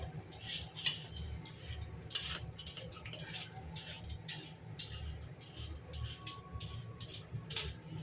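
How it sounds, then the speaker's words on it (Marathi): A knife trimming the stem off a roasted eggplant for Maharashtrian baingan bharta, heard as faint, scattered clicks and scrapes of the blade against a board in a quiet kitchen. "वांग्याचे आता आपण देठ कट करून घेऊया."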